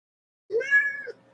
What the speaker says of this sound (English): You silly cat.